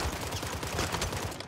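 Rapid bursts of gunfire from a Call of Duty Rebirth Island match, a dense clattering volley of shots close up, loud and continuous for a moment.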